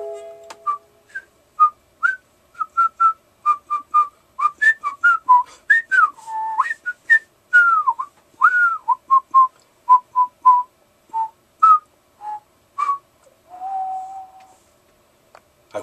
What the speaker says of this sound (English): I whistle because I don't play handbells.